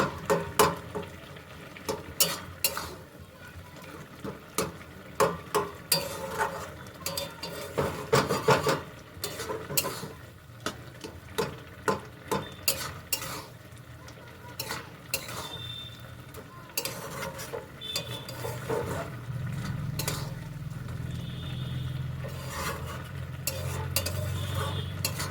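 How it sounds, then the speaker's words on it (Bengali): Potatoes being stirred and mashed in a pan with a spatula, giving a series of repeated scraping and rubbing strokes, fairly quiet, with a soft sizzle building toward the end. "আলুগুলো একটু ঘেঁটে দেবো।"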